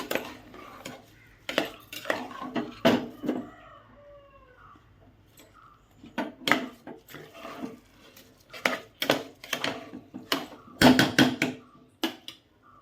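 Washed rice being mixed in a pot for egg biryani, giving repeated metallic scrapes and clinks of a ladle against the pot in irregular bursts, fairly close and with no talk.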